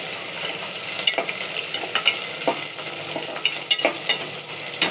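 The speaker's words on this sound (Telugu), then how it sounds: "ఉల్లిగడ్డ, పచ్చిమిర్చి అన్నీ వేగాలి. నూనెలో ఫ్రై కావాలి." Onions and green chillies fry in oil with a continuous hissing sizzle, while repeated scraping and tapping of a spatula stirring the pan comes through up close, with no voices.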